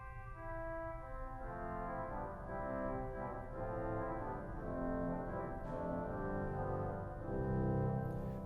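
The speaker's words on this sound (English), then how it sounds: "Well, then we've got an oboe, or basson, 8-foot." A 1906 Felgemacher pipe organ's oboe or bassoon 8-foot reed stop plays a slow melodic line over sustained chords, reedy and full, swelling slightly toward the end with no talking.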